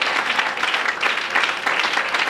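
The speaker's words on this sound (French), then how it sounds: "Est-ce qu'on peut acclamer très fort pour le Seigneur?" A church congregation applauding and cheering loudly for the Lord, a dense, steady wash of clapping and voices that fills the space throughout.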